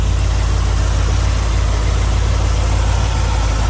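A warm 1957 Chevy Bel Air engine idles steadily and loudly up close, a constant low rumble with even vibration and no talking.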